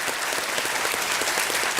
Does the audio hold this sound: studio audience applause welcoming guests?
yes